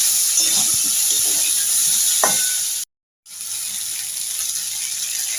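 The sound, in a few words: water being added to tomatoes and potatoes frying in a pan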